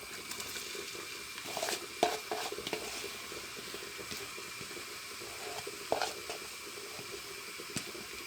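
Onions sautéing in hot oil in a pan, a soft continuous sizzle with occasional scrapes and stirring clicks, quiet and close.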